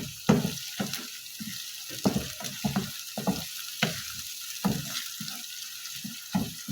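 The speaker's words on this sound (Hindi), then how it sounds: "थोड़ा सा लहसुन अदरक का जो पेस्ट है उसे पका लूँगी।" Garlic-ginger paste frying in a pan over a high flame, with steady sizzling broken by repeated sharp stirring scrapes at an uneven rhythm, close and moderately loud, with no talking.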